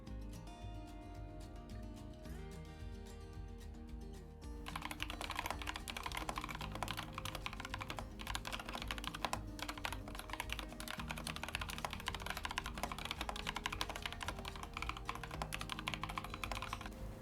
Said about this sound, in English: here's a little bit of keyboard ASMR, but ignore my typos